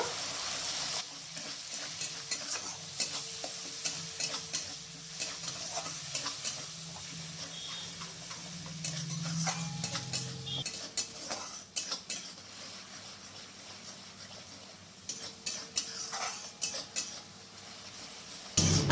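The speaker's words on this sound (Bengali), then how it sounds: "এরপর দিয়ে দেব টমেটো পেস্ট। এরপর আবার ভালো করে ভেজে নেব।" Ginger paste and tomato paste frying and being stirred in a pan for a yam curry, with steady sizzle and scraping of a utensil against metal, moderately close and fairly quiet, no voices.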